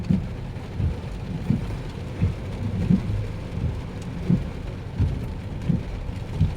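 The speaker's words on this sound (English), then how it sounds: "And it's raining, and I don't have an umbrella." Heavy rain falls steadily during a drive, heard from inside a vehicle, with low rumbling thumps recurring every second or so beneath the constant wash.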